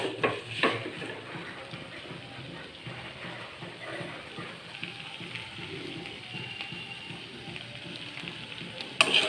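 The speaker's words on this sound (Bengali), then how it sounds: "চিনি দিয়ে আমি এটিকে ভালো করে মিশিয়ে নেব" Cauliflower and drumstick chochori being stirred in a pan, with faint sizzling and soft scraping of a spoon going on steadily, low in level and close.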